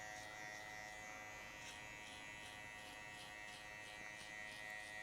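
Electric hair clipper with a number 2 guard buzzing steadily through a haircut for a mid fade, a close, continuous motor whine held without break.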